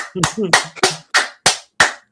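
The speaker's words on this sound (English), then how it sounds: "I religiously be looking for these cheeks, booty clapping sounds." A booty-clapping sound effect: about six sharp, fleshy slaps in a quick, fairly even rhythm, close and loud, with a brief voice mixed into the first few.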